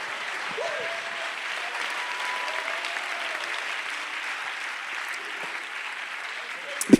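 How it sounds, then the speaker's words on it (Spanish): A church congregation applauds to praise God, sustained dense clapping from many people filling the room for several seconds, with a few louder claps standing out at the end. "Dele un aplauso al Señor y dele gracias a Él."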